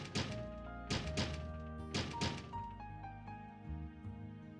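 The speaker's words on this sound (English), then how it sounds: "Afraid the barrage of banging will break the glass" Several dull knocks bang on a window glass in uneven bursts, moderately loud over a quiet musical background.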